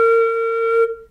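Low flute note played on the head joint without tonguing, so the tone swells in with no crisp attack, holds steadily for under a second, then fades with a soft breathy tail.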